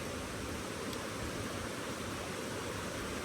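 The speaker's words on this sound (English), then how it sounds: "Run across a little hidden pool over here. It's just off to the left of the waterfall." Waterfall on the Whitewater River in North Carolina, a steady broadband roar of falling water that holds constant and loud throughout, with no voices over it.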